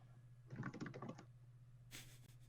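Computer keyboard being typed on, a quick cluster of close, soft key clicks followed by a brief pause and then another burst of tapping, fairly quiet.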